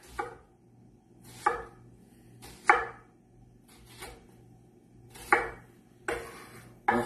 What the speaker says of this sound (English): the onion, you know, got to be really, really thin, the onion. You know, chop, chop, chop.